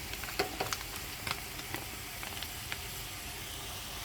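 A cup and a half of water boiling in a pot still coated with plenty of oil, giving a steady close hiss and sizzle with small scattered pops and crackles.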